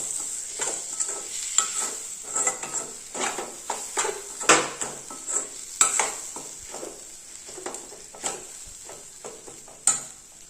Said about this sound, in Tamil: ஆட் பண்ணிட்டு இதையும் நல்லா வதக்கி விடலாம்.